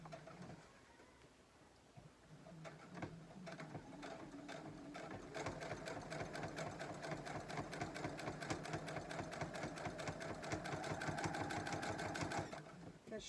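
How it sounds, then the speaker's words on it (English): A sewing machine runs in a fast, steady stitching rhythm, starting slowly then speeding up and holding for several seconds before stopping. "it works totally fine with my sewing machine"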